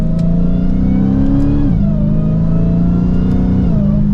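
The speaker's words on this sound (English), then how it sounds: "You can hear that supercharger whine that it doesn't get old." A Dodge Challenger SRT Hellcat Jailbreak engine revs hard under acceleration, with a steady high-pitched supercharger whine rising and then dropping briefly at a gear change before climbing again.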